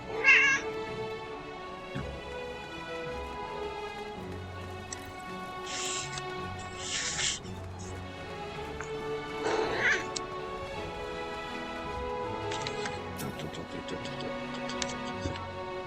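Cat meowing inside the video game Final Fantasy XIV: Endwalker, several meows over steady game music, with brighter sound effects appearing now and then.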